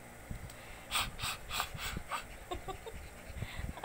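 A dog pants heavily and quickly at close range, a series of breathy, rhythmic huffs with snuffly low sounds in between, fairly quiet and with no talking.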